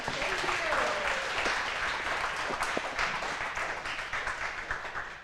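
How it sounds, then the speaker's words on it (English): An audience claps and applauds steadily for several seconds, the clapping thinning out toward the end. "let's get a round of applause for our speakers."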